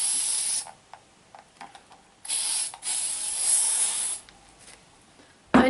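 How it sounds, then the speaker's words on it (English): L'Oreal Infinium hairspray from an aerosol can, several short hissing bursts of varying length separated by quiet gaps, close and fairly loud. "Then after that I fix it around and add hairspray,"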